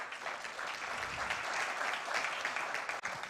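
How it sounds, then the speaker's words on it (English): An audience at a Nairobi tech week event applauds as a Huawei panelist is called up to the front, a full, steady burst of clapping that continues throughout. "Let's clap for him."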